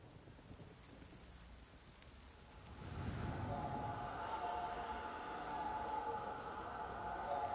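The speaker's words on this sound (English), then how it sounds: "This downpour's a bastard, it is." Heavy rain pours down during a downpour in The Witcher 3: Wild Hunt, quiet at first then surging into a dense, steady roar of rainfall that stays loud to the end.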